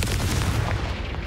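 The Confringo explosion spell goes off in Hogwarts Legacy as a loud, dense, sustained rumbling blast that fills the whole moment, with no talking.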